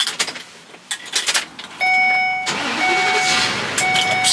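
A big truck's engine failing to start: repeated cranking bursts followed by a steady electronic warning chime sounding in intervals, loud and close.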